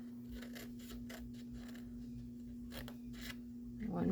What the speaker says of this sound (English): I'm going to cut off these 8 boxes here.